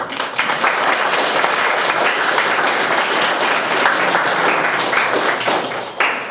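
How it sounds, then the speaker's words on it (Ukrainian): Sustained, dense applause from a large crowd at a school bust unveiling ceremony, steady and loud throughout, tapering slightly near the end. "Я хочу, щоб ми підтримали їх оплесками від душі."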